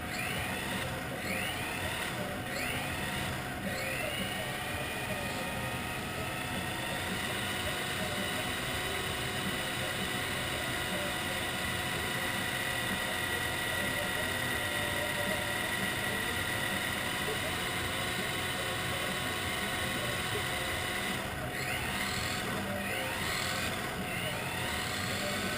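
A Kyosho RB6 RC car being broken in, its small motor running steadily at about quarter throttle with occasional short blips; a constant high whine and buzz fills the whole stretch at a moderate distance, with no voices.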